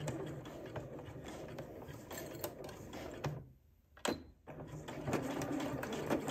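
Sewing machine stitching darts on a dress bodice, a soft, close mechanical whir with a brief stop partway through before stitching resumes.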